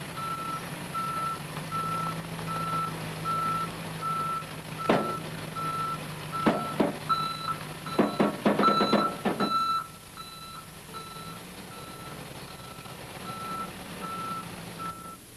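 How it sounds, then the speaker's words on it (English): A truck backs up a trailer, its reversing alarm beeping in a steady, evenly spaced rhythm over engine idle, with a cluster of sharp clanks and air-brake bursts midway before the beeping continues alone. "To back a trailer, you have to jack it to get it headed in the direction you want it to go."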